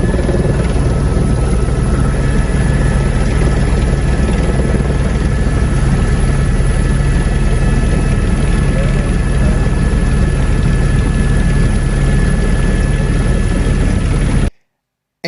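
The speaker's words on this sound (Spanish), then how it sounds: "incluso hasta con el apoyo del helicóptero Cero" A police support helicopter during a security operation in Mexico produces a loud, continuous rotor and engine drone that holds steady for about fourteen seconds before stopping abruptly.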